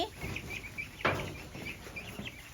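Ducks call out nearby in short, nasal quacking and clucking notes, several calls over a low outdoor background.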